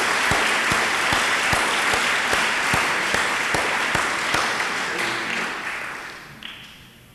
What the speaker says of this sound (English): So let's applaud the student lecture committee.